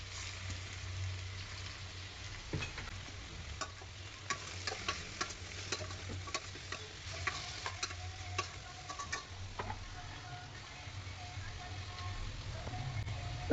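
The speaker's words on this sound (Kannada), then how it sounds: "ಇದನ್ನು ಪೆಪ್ಪರ್ ಡ್ರೈಗೂ ಕೂಡ ಇದನ್ನು ಕೂಡ ಎಣ್ಣೆಲಿ ಬಾಡಿಸ್ಕೊಳ್ಳೋಣ" Chicken frying in hot oil for a pepper dry, a steady sizzle with scattered ticks and crackles and occasional stirring scrapes, close and fairly quiet throughout.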